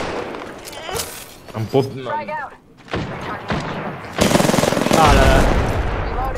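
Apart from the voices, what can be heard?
gunshots from a video game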